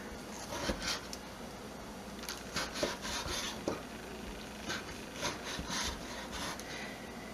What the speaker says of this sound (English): So now you just want to cut your tomatoes like this, just thin strips.